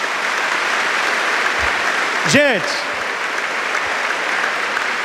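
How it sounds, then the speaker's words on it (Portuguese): Steady applause from a church congregation runs throughout, with a single short spoken word rising briefly over the clapping. "Então aplauda esse Deus aí,"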